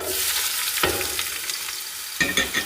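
Chopped onions frying in hot oil in a pot for rice biryani, a steady close sizzle with a few brief clattering stirs, alone with no voices.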